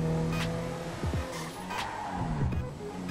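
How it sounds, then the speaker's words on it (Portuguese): A BMW 750 Li in GTA V revs hard while driving, its engine droning under brief tire squeals and quick pitch swoops as it weaves, loud and close, with no talking. "Olha o tanto que essa BMW corre."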